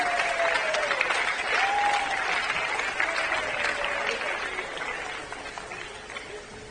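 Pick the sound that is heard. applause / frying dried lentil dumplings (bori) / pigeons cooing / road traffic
applause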